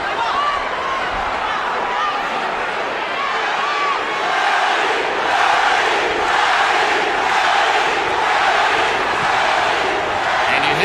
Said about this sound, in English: And you hear the adoration of the crowd.